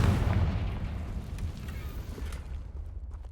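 A Confringo blasting spell from Hogwarts Legacy goes off in a single loud, deep explosion. The boom rumbles and then decays over a few seconds.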